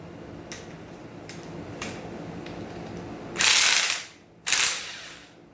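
A ratchet wrench loosening the connecting rod cap nuts on an engine during teardown: faint clicking at first, then two loud, close bursts of rapid ratcheting separated by a short pause.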